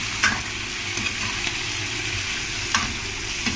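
Chicken sizzles steadily in hot oil for adobo as it is stirred, a loud continuous frying hiss with a few soft scrapes of the utensil against the pan.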